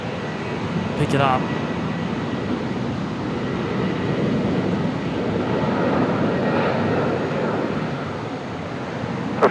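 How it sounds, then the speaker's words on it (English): A Qantas airliner rolls down the runway at Brisbane Airport at sunset, a steady distant jet engine roar heard from a spotting position, with brief talk near the end. "Now we have got Qantas 559 rolling."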